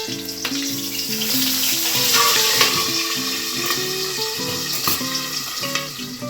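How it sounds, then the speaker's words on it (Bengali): Pabda fish fry in hot oil in a pan with a steady, close sizzle and crackle, while low tonal music runs underneath throughout. "পরপর মাছগুলো ভেজে ভেজে উঠিয়ে নেব"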